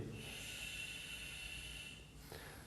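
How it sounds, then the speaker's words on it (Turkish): A steady, airy hiss of breath pushing out through the exhaust valve of a Dräger PSS 5000/7000 breathing apparatus mask, continuous for a couple of seconds before briefly dropping and resuming, close to the ear. "Verilen hava maskenin egzoz valfinden dışarıya çıkacaktır."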